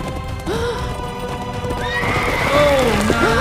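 A horse neighs with a rising and falling whinny, joined by hoof clip-clops and background sound, fairly close and clear.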